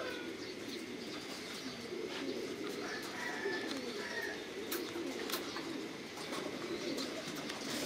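Pigeons coo in a low, continuous chorus at a large breeding farm housing thousands of laying pairs, with scattered chirps and occasional wing flutters layered over steady background noise.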